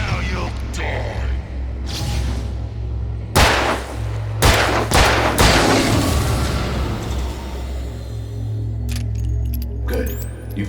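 Gunshots in Alan Wake Remastered, a few sharp loud bursts spread through the middle of the clip over a steady low game rumble, with a voice speaking alongside.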